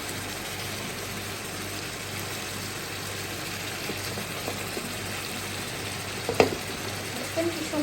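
Spices and boal fish frying down for a curry, a steady low sizzle with soft stirring scrapes and a couple of brief clinks near the end.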